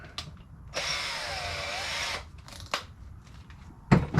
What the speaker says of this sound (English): All right, little drill bit.